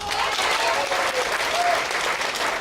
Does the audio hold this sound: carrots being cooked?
no